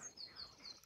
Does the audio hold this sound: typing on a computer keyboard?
no